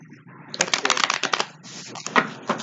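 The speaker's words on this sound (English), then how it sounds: "I'm shuffling cards right now" Tarot cards are shuffled close by in a series of quick, crisp riffling bursts and flicks. A brief soft murmur of voice comes at the start.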